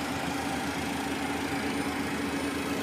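A Cessna Citation Ultra 560 business jet idles on the ground after startup, giving a steady, loud, unbroken engine roar and hum with no changes in pitch.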